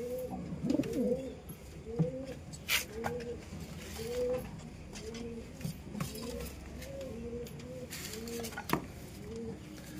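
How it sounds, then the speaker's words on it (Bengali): Pigeons coo again and again in a steady, rhythmic run of soft throaty calls, near and clear, with light clinking now and then. The pigeons are being kept and treated at home. "এই যে কবুতর"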